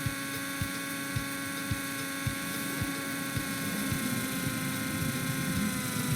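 A simulated radio-controlled helicopter in the RealFlight G2 R/C Simulator game: a steady rhythmic rotor thump over a constant engine whine and hum, the blade beats evenly spaced and continuous.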